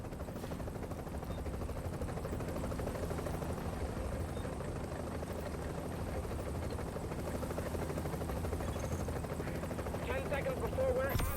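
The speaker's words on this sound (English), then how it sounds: "we still make it to the chopper" Helicopter rotor and engine drone in The Division game, a steady heavy roar through the whole stretch, with gunfire-like bursts and chatter mixed in underneath.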